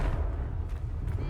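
The Confringo spell blast in the video game Hogwarts Legacy lands as a short, heavy low rumble with a dull booming body that fades quickly, close and fairly loud.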